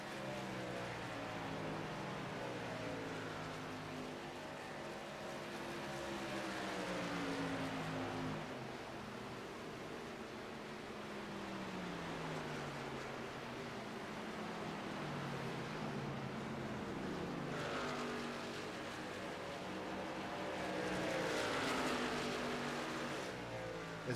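Racing trucks roar around an oval track in a truck series race in a video game, a steady loud engine drone with rising and falling pitch sweeps as vehicles pass, continuous throughout with no talk.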